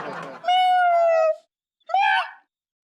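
Person imitating a cat's meow in a comedy show, two loud drawn-out meows, the first long and wavering and the second shorter, after a brief burst of noise.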